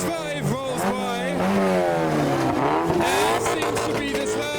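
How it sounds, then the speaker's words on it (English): A Mazda MX-5 rolls past while leaving a car meet, its engine note rising and falling in pitch as it nears and passes, loud and close, with a crowd and voices mixed in around it. "as the MX-5 rolls by"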